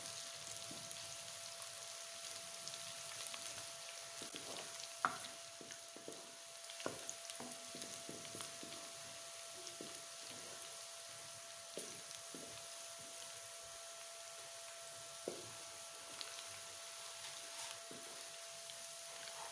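Chopped onions fry and brown in a pan for a chana dal, giving a soft, steady sizzle with occasional clicks of stirring, faint and without talk.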